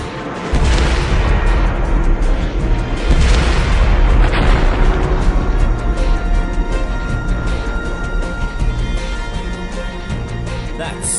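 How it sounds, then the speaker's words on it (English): Soldiers open fire with weapons amid explosions, a loud sustained roar of blasts and booming gunfire that rolls on continuously with no talking. "Open fire. Repeat."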